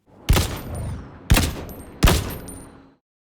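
Three sharp rifle shots from an Unreal Engine shooter game, about a second apart, each with a bright metallic tail as a shell casing ejects and tinkles away, loud and isolated with no voices.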